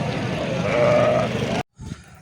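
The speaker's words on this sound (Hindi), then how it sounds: "मादियाँ दुम्बियाँ, खूबसूरत दुम्बियाँ जी माशाल्लाह" A female fat-tailed dumba sheep bleats once at a livestock market in Talagang, a loud, wavering cry that ends abruptly, followed by faint background noise.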